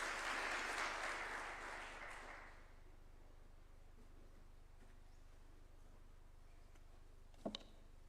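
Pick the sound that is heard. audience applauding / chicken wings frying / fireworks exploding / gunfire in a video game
audience applauding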